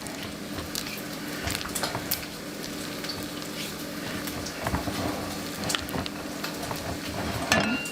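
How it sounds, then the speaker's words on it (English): Bacon sizzles steadily in a frying pan, a constant close crackle with scattered sharp spits and pops, alone without talk. "I'm trying to make sure my bacon's crispy enough"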